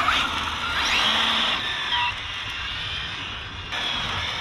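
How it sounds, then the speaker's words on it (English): A drift car's engine runs steadily as it warms up, a loud and close drone with a shifting pitch and small dips in level, with no talking. "I wanna try to get that motor heated up."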